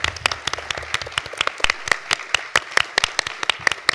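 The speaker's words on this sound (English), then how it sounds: "Another applause." Scattered, uneven hand claps from a small crowd at a gallery event in Berlin. The claps are distinct and close, with no steady roar behind them.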